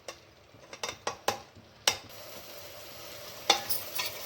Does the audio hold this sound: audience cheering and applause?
no